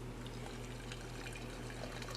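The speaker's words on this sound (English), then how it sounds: "Add hot water to it." Hot water pours from a kettle into a coffee setup, a soft continuous trickle over a low steady hum, faint and close with no talking.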